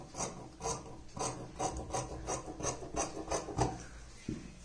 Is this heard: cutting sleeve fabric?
yes